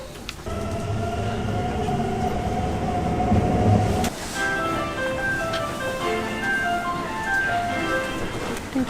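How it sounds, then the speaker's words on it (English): Steady rumble of a Tokyo train in motion, with rail noise and a brief whoosh midway, followed by a quieter, even rolling with faint tonal hums. "we're about to get on a train"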